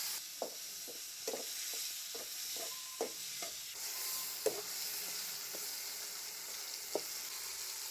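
Tomatoes and onions sautéing in a pan with salt, a soft continuous sizzle broken by scattered spoon taps and scrapes against the pan, no talk.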